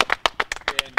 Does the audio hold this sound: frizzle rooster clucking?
no